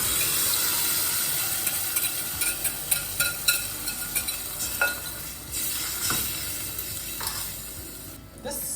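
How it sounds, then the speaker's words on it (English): Chunky pureed tomato goes into a hot pan for a spicy tuna spaghetti sauce, giving a steady loud sizzle with scraping stirs and small splashes throughout. "we're going to throw in our pureed tomato"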